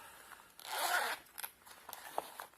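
A zipper is opened on a case holding diamond-painting supplies, with one long close rasping pull followed by a few shorter tugs and light handling clicks; no speech.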